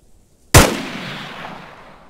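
A single loud gunshot in the video game Breaking Point, a sharp crack about half a second in followed by a long fading echo, with no talk.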